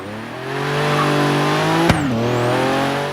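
A rear-engined car idles steadily, then rises briefly in pitch with a sharp pop as it pulls away from a standstill, settling back to a lower hum; close and fairly loud.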